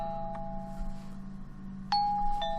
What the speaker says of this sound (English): I doubt the cat is ringing the doorbell.